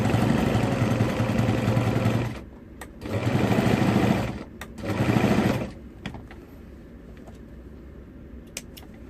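Sewing machine running stitches through thick fabric with a widened 3 stitch length, while making a zipper accordion; three loud bursts of stitching separated by short pauses, then a quiet tail.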